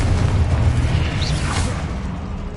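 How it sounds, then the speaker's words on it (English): A fire-blast spell explodes in the video game Hogwarts Legacy: a loud, booming burst with a rushing whoosh that fills the whole moment and then tails off, with no talking over it. "Confringo!"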